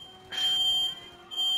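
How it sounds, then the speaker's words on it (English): A faulty smoke alarm gives two loud, high-pitched electronic beeps indoors, the first lasting about half a second and the second coming after a short pause, over a quiet background. "It's that faulty fucking fire alarm"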